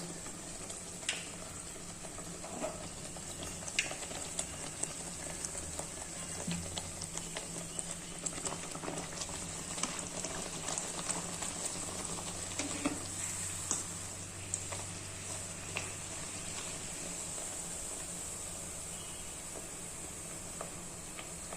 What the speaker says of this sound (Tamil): நல்லா இந்த சலசலப்பெல்லாம் அடங்கிருச்சு இப்போ நம்ம பூரியை எடுத்துடலாம்